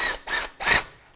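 A socket wrench ratchets on engine mount bolts of a 2005-10 Volkswagen Jetta, giving three short, close rasping strokes in quick succession with no talk.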